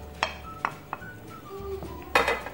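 Beef bone soup being stirred in a metal pot, with a few sharp scrapes and clinks of the utensil against the pot and a louder clatter near the end, close and fairly clear.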